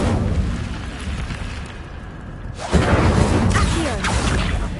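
An Incendio fire spell cast in the video game Hogwarts Legacy: a loud fiery whoosh and burst erupting partway through and lingering over a steady rumbling background.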